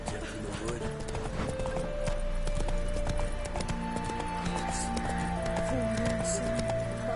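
Roach, a horse in The Witcher 3, clip-clops in a steady running rhythm, with musical score and other game sounds layered on top.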